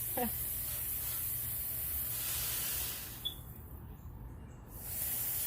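A spray bottle on a mist setting puffs a soft, steady hiss over rosemary cuttings for a few seconds, then falls quiet before the hiss returns faintly.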